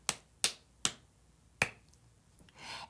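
Four sharp, crisp claps ring out in an uneven rhythm against near silence, followed by a soft rustle.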